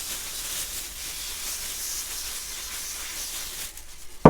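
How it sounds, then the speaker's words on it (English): A WD-40 aerosol sprays in one long, steady hiss onto a tool held in a plastic bag, close and fairly loud, ending with a sharp crinkle or knock. "literally douse it with our magic favourite"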